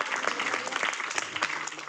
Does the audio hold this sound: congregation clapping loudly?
yes